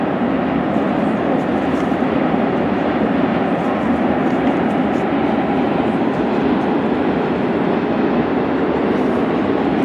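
A train crosses a bridge over the Zeya River with a steady, continuous rumble and rattle, heavy and unbroken from start to finish.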